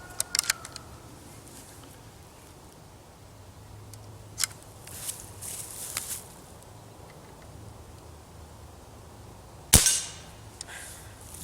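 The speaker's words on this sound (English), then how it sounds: "pump it up and do some shooting. I usually just do 4 pumps when I'm plinking" Custom Benjamin 392 pump air rifle with a two-spring mod, pumped four times for plinking: a few faint clicks and handling noises, then one sharp, loud shot near the end with a brief ringing tail.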